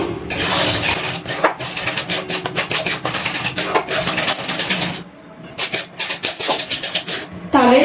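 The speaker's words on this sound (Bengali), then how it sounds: "আমি কিন্তু ভালো করে নাড়াচাড়া করে জাল দিয়ে কিছুক্ষণ রান্না করে নিয়েছি।" Palm fruit pulp stirred in an unwashed wok, a steady scraping and rubbing of the spatula against the metal that runs loud and continuous, pausing briefly before resuming.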